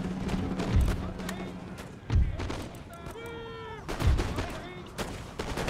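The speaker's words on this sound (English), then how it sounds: "And these guys will all start shooting." Musket volleys crack in the Empire Total War strategy game during a huge battle, with several bursts of massed gunfire rolling out at intervals. Battle noise and a brief tonal game sound sit between the volleys, and someone talks over it.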